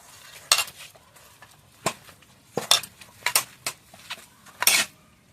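Bhola fish cutlet mixture with spices is mixed in a bowl, giving a series of short, irregular scrapes and clinks against the bowl, separated by near-silent gaps.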